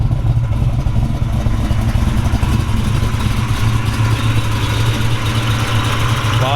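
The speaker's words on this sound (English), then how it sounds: "All right, we fired it up here for you." A 1970 Chevrolet Camaro Z28 Pro-Tour resto-mod with a 572-cubic-inch, 620-horsepower GM crate engine idles loud and close, a deep steady rumble that carries on throughout.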